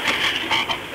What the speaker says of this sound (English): We need to have a listen to this frog